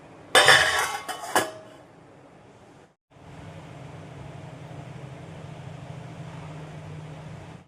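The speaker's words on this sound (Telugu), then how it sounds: "మూత పెట్టేసి ఇలా గరిటె తీసేసి మూత పెట్టేసి" A metal ladle is pulled out and a lid set on a pot of gulab jamun in a home kitchen, giving a couple of sharp clanks close by, followed by a steady low simmering hiss.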